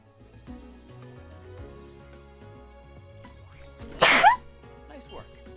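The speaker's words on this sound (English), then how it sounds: "I feel a sneeze." Quiet low background hum gives way to one abrupt, close human sneeze, followed by a faint breathy sound.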